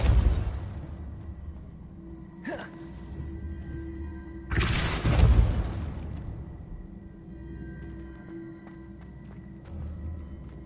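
A Depulso spell is cast in Hogwarts Legacy, with a sharp rising whoosh followed by a heavy burst and rumbling blast, then a low magical hum lingering afterward.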